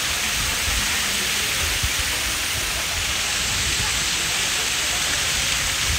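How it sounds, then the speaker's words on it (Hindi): Water falling from an outdoor fountain in France on a rainy day, a continuous loud rushing hiss close by, steady and unbroken throughout, with no talking. "और बढ़िया ही प्यारा लग रहा था ये पानी गिरता हुआ।"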